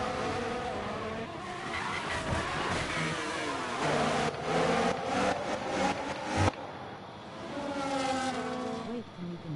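An F1 race car in the F1 25 video game spins its wheels in fifth gear, a revving engine whine with tire squeal and skidding, loud and continuous, with voices talking over it.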